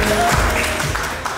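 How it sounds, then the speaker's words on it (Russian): Wedding guests clap in encouragement, a loud, dense burst of applause close by with some crowd murmur mixed in. "Эти аплодисменты вам,"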